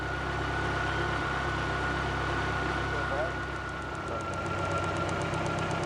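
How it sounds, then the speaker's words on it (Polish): A car engine fitted with a spark plug tester idles steadily on all cylinders, a close, continuous mechanical hum with a faint ticking rhythm that holds at an even level throughout. "Widzicie, i silnik pracuje na wszystkich cylindrach."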